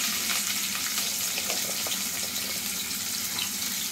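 Onions frying in oil for a Telugu mutton curry give a steady, moderate hiss and sizzle with faint crackles running evenly throughout, no voices.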